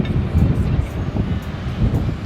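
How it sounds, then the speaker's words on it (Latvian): Strong wind gusts buffet the microphone in an open port area by the sea, a loud, rough, continuous rumble with no talking. "Un te jau paliek vējaini"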